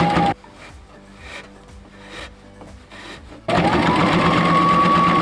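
A sewing machine stitches a lacy ruffle scrunchie, starting with a short burst, then running in bumpy stops and starts before a loud, steady whirring run at close range.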